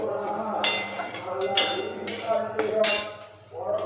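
Semolina with milk is stirred in a pan with a metal utensil, producing loud, close clanks and scrapes against the metal at irregular intervals over a faint background hum.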